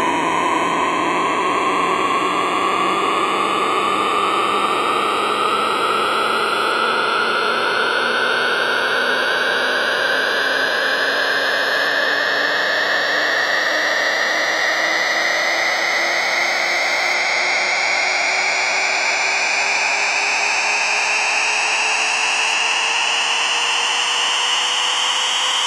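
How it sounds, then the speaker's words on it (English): A Waldorf Nave synth sound effect rises steadily and continuously in pitch for nearly half a minute, a dense, buzzy, noisy tone with layered harmonics sweeping upward at constant loudness, with no talking. "Check out how this sound effect just climbs and climbs."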